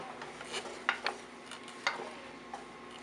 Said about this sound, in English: So we've got it sizzling just a little bit here.